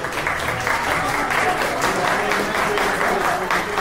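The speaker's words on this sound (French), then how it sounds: "Pour les femmes, pour les mamans, ils ont applaudi." Guests at a thank-you dinner clapping together, a continuous full round of applause from a room of people, loud and even, with faint murmurs beneath.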